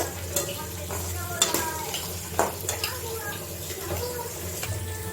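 Onions sautéing in a pan until browned, after cumin, for a prawn curry, a spatula scraping and stirring in irregular strokes over a continuous close sizzle.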